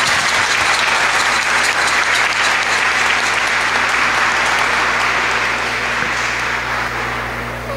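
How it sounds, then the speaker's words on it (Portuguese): A congregation at a solemn religious profession ceremony gives Frei Jesus a strong round of applause, loud and sustained, with a dense wash of clapping that fades slightly at the end. "Vamos dar uma salva de palmas para ele"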